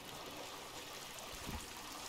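River water in Sons of the Forest flows in a constant, faint, hissing trickle with no talk over it.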